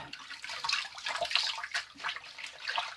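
Tap water runs steadily into a bathroom sink for rinsing during a shave with a vintage Gillette razor, a close, hissing splashing stream with no talking.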